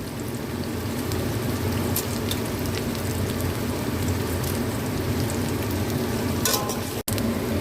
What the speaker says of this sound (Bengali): এই পেঁয়াজটা হাফ ভাজা হয়েছে, এবার বড় এলাচ দিলাম